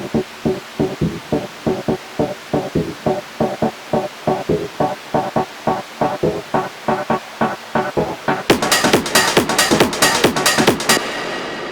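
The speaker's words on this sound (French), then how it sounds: "c'est une parallel chain ici qui est forte et qui crée ce rumble qui par la suite va être printé" Techno track breakdown with a heavy parallel reverb chain: a steady, loud kick-driven pulse with a booming reverb rumble, then a bright, dense wash of hits takes over near the end.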